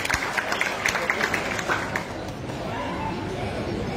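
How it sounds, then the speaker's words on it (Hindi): An audience at a blood donation camp applauds, claps crackling densely for a few seconds beneath a speaking voice before settling into a softer, even patter. "एक बार जोरदार तालियां इनके लिए।"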